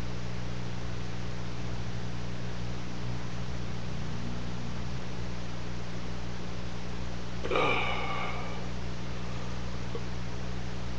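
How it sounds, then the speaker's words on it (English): One short, low belch from a man after drinking a large amount of soda, rising briefly above a steady hiss of background noise and constant low electrical hum. "I just gotta burp and then I'll feel better."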